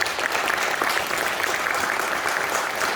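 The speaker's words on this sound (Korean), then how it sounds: "여러분 박수로 환영해 주십시오" Audience applause welcoming a speaker at a Christian cultural institute event, a dense, steady clapping from a crowd filling the room throughout.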